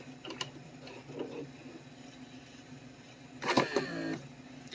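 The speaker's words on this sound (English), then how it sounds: "see if the pump is capable of producing enough pressure and vacuum to open and close the door locks when the battery is weak" The electric vacuum pump for the door locks of a Mercedes W140 S-Class buzzes faintly, followed by a louder mechanical whir and clunk as the locks actuate, with no one talking.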